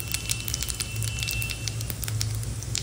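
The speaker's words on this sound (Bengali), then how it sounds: "তেল গরম হয়ে গেছে, এখন এখানে জিরে দিয়ে দিলাম।" Cumin seeds hit hot oil in a home kitchen, making a short burst of dense crackling and popping sizzle, close and steady, with no voices.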